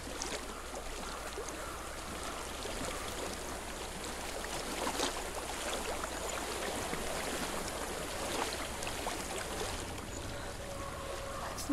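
Water flows steadily in Hellblade, a soft continuous rushing wash that holds at an even level throughout, with no other sounds standing out.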